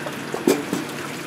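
Fuel streams through a homemade gasoline/diesel separator fed by a diesel generator, a soft liquid trickle with a couple of faint splashes over a quiet steady background.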